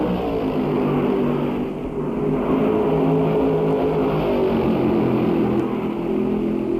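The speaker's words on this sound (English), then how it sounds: "McQuaig's doing what we all dream about, leading the pack in his second Darlington race" 1965 Dodge Charger stock cars race at Darlington, engines roaring in a sustained, loud drone that swells slightly as the pack passes, with no talk.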